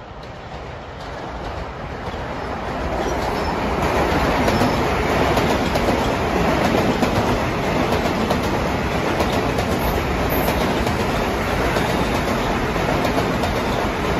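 An eastbound Long Island Rail Road train rushes past Elmont station, a loud, steady roar of wheels and rail clatter that swells and holds throughout.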